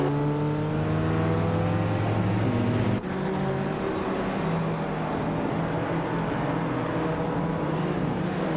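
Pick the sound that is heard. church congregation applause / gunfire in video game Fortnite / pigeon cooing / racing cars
racing cars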